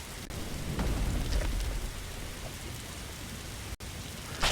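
Heavy steady rain hisses alongside low thunder rumbles during a stormy scene in a survival video game set in a volcanic forest biome, with no voices.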